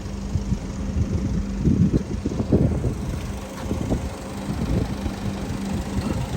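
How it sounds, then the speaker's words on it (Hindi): A car engine idles low and steady while the vehicle is parked outside a Toyota garage, with a constant rumble and some wind buffeting on the microphone, and no talk over it. "गाड़ी पार्क हो रही है"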